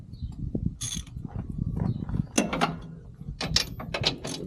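Hand ratchet turning a 17 mm bolt on a Honda Talon's sway bar and shock. Bursts of close metallic clicking come in separate runs between quieter handling noises, with no talking.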